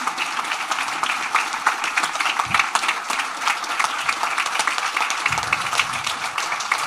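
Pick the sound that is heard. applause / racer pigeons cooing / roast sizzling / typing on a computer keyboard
applause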